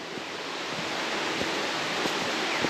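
Steady broadband rush of flowing water at a creek crossing on the way to ruins, continuous and fairly close, with a constant hiss and occasional soft splashy peaks, no voices.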